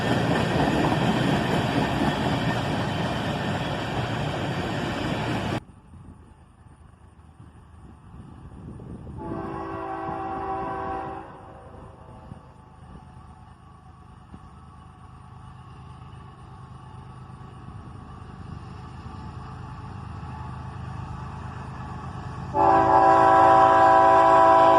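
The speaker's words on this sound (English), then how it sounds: "Triple EMD power here, with a GP38-3 leading, followed by a GP40-3 and a GP40-2" A freight train led by three EMD locomotives, a GP38-3, a GP40-3 and a GP40-2, sounds its horn in loud sustained blasts. Between the blasts the rumble of the train continues, and a final horn blast comes at the end.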